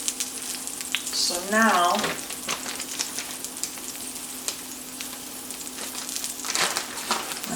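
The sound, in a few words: hashbrowns frying in a skillet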